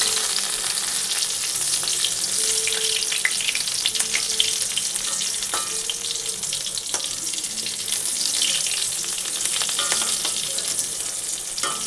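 Pointed gourd (potol) slices frying in a pan, giving a dense, continuous sizzle of oil at close range with small crackles throughout.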